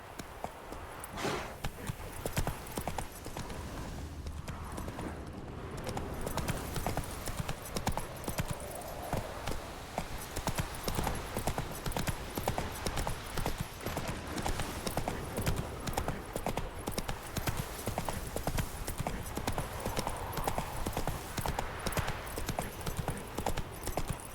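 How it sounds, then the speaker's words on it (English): Hooves of the horse Roach gallop in The Witcher 3, a steady rapid clip-clop pounding on continuously over game ambience and music for the whole stretch, with a brief whinny and faint voices in the background. "Run, Roach."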